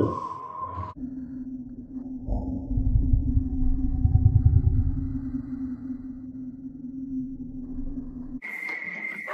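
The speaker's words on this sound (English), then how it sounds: "Cave noises." Eerie cave ambience from the Minecraft video game: a sustained low droning hum with a swelling rumble in the middle and brief tonal cues at the start and end, moderately loud with no talking.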